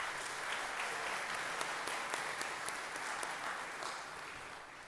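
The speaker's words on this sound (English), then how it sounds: "Let's give these guys a round of applause." Steady applause from the crowd at a 2018 FFA agriculture department banquet honoring graduating seniors, a dense, even wash of clapping that holds at a fairly distant level for about five seconds and fades slightly at the end.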